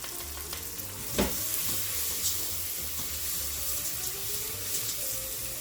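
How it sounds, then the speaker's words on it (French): Rice toasts in butter in a pan for a white risotto, a soft continuous sizzle with an occasional close scrape or tap of the utensil. "Et on continue à torréfier notre riz"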